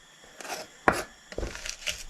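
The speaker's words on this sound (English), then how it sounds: "You just want to smush it into your chopping board." Minced garlic being mashed with coarse sea salt on a wooden chopping board, a few close, dull scraping and pressing strokes with soft knocks against the wood.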